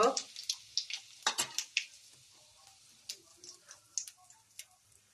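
Cumin, mustard seeds, curry leaves and asafoetida hit hot oil, giving a brief burst of crackling followed by faint, scattered pops and ticks.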